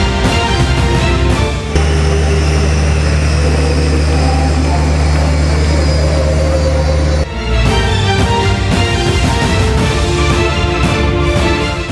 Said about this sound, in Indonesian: Berjenis pesawat angkut udara Airbus A400M memiliki kemampuan unik